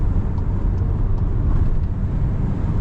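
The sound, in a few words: wind noise in VW Tiguan 2.0 driving at 143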